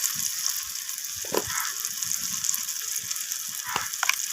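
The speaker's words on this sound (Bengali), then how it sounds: "সমস্ত কিছু মশলা আমি পেঁয়াজ আর টমেটোর সাথে এইভাবে কষিয়ে নেব" Onion and tomato frying in a pan with turmeric and red chilli powder for an amudi fish curry, giving a steady crackling sizzle with a few brief scraping stirs, close and fairly loud.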